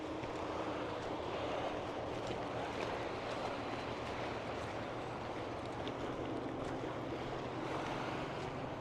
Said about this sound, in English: Another boat.